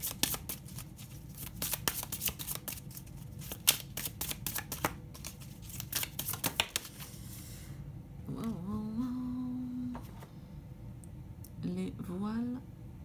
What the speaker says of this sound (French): Je tire une carte de l'oracle de l'amour